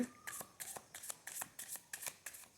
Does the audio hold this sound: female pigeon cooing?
no